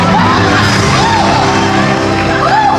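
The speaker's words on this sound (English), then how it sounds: "give him a big round of applause, everybody" A crowd whoops, shouts and cheers loudly and continuously, a dense wash of voices filling the space.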